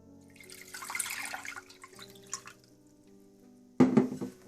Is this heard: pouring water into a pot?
yes